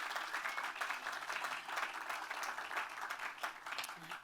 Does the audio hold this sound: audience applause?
yes